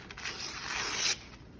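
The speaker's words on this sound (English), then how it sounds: "for today we're gonna try to tear the edge off because we don't want any cut edges" Paper is torn by hand to leave ripped edges for a papier-mâché mask. It is a single close, soft tearing rasp lasting about a second and then stopping, with quiet room noise after it.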